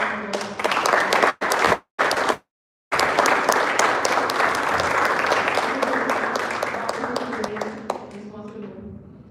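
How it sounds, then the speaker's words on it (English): A room full of people at a speech marathon meeting claps steadily for several seconds, broken by a couple of abrupt gaps, then the applause tapers off toward the end. "So a big round of applause for"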